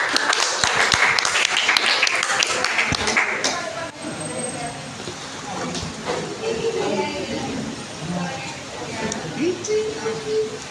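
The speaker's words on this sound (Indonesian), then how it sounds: "Kita kasih tepuk tangan dulu untuk kelompok." A classroom of students claps for a group, a busy burst of applause that dies away after a few seconds, followed by quieter room noise with some talking.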